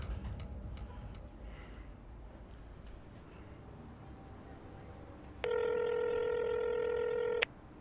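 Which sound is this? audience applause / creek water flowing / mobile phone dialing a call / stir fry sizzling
mobile phone dialing a call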